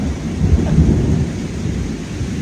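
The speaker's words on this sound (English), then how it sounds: "Goodness gracious, you can't hear me for the thunder." A deep, rolling rumble of thunder from an outdoor thunderstorm sits under steady, loud rainfall, filling the whole short stretch with no voices.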